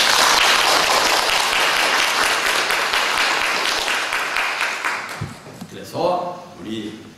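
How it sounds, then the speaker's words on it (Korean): A church congregation gathered for a victory report meeting breaks into loud, dense applause that gradually fades, after which voices begin talking over the last scattered claps. "박수합시다."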